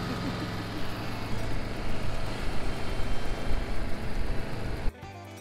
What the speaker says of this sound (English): Winter ATV ride.